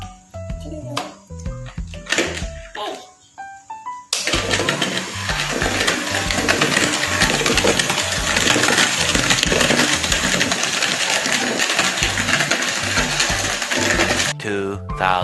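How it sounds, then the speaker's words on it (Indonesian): An electric mixer whisks coffee, sugar and hot water into dalgona, starting abruptly after a few seconds of brief clinks and music-like tones, then whirring loudly and steadily with a gritty rattle for about ten seconds before stopping. "Kemudian kita aduk dengan mixer."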